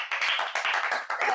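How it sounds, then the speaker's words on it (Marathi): A small family group at home claps for the mother after she wins a who-knows-me-better quiz: about six quick, even rounds of hand claps, close and lively. "तर मम्मीसाठी टाळ्या."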